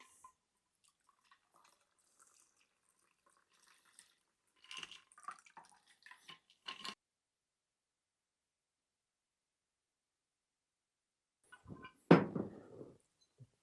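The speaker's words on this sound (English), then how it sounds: "It's time to get out that beautiful glass, and let's pour it." A pink Mistletoe Margarita cocktail is poured into a glass in a quiet room: scattered faint clinks and drips, then a short, close liquid splash near the end.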